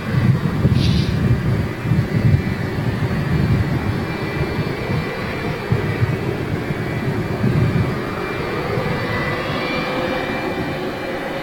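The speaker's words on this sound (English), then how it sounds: "you can hear those engines. Rolls-Royce RB211." A Jet2 Boeing 757 with Rolls-Royce RB211 jet engines at Manchester International Airport gives a loud, steady, deep engine roar that runs unbroken through the whole stretch, with some wind buffeting on the microphone.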